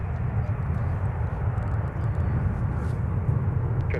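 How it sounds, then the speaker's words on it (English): A Sun Country airliner arriving from Phoenix at Minneapolis–St. Paul airport, a steady low roar of jet engines holding evenly throughout, with no talking. "let's take a look at our arrival from Phoenix as Sun Country gets into the Twin Cities"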